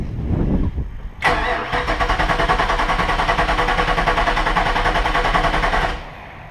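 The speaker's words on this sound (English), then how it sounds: "we're going to crank it over just for a couple of seconds" A Mercruiser 8.1L 496 sterndrive marine engine cranks over on the starter for a few seconds, giving a loud, steady, rapid mechanical chatter that stops abruptly, with no talk over it.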